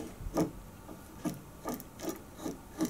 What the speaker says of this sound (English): I can now rotate the ball nut left on the machined piece